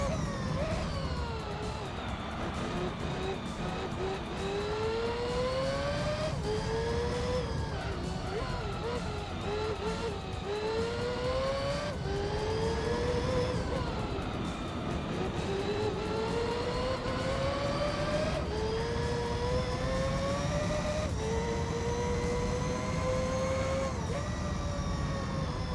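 Racing car engine in Gran Turismo 3, revving hard with rising and falling pitch as it upshifts through gears, loud and continuous throughout, with a voice talking over it.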